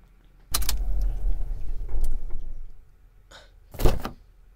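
A car door opens and thuds shut with rustling and a jangle of keys as someone climbs in, then a second brief door or latch sound follows; close, binaural, with no engine clearly heard.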